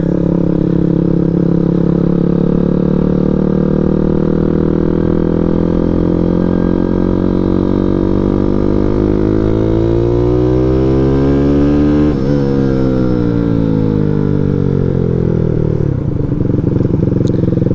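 A 212cc Grom clone minibike engine drones loud and close as the rider revs and pulls hard. The pitch climbs steadily through a long, unbroken run, dips briefly with a gear change, then rises again.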